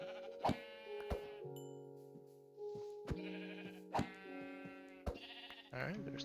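A video game sheep bleats several times in short, nasal calls, with sharp clicks between them and sustained game tones underneath.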